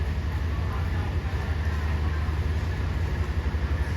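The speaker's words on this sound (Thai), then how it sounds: "ได้สัญญาณออกจากสถานีรถไฟชุมทางบางซื่อนะครับผม" A low, steady engine hum and rumble of a Hitachi diesel locomotive hauling the Bangkok–Chiang Mai express, pulling away from Bang Sue Junction station, continuing evenly throughout.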